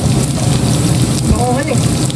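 Onions crackle into hot oil in a pan with meat, making a loud, dense, rain-like sizzle that runs throughout, with a brief voice underneath.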